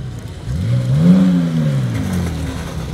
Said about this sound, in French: Le magnifique Lamborghini Miura